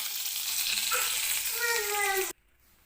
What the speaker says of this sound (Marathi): तर कढीपत्ता सुद्धा मी तेलामध्ये टाकून घेतलेला आहे